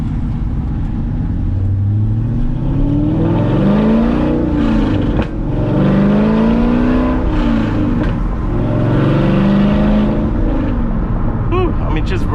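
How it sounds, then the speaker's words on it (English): A C6 Corvette accelerates hard through its gears, with the engine note climbing in repeated rising sweeps and dropping at each shift, loud and close. "just rolling through the gears in a freaking Corvette"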